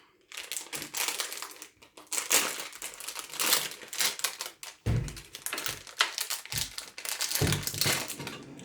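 A blue plastic snack package, a donut from a Bebeto jelly candy line, being torn open with dense, continuous crinkling and crackling up close, punctuated by a few sharper rustles.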